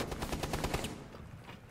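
Rapid automatic gunfire in the tactical shooter Rainbow Six Siege, a dense burst of shots for under a second that then gives way to quieter game noise.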